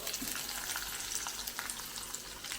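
Food frying gently in a pan over a low flame, a soft, even sizzle with faint crackles and light stirring, quiet and close throughout.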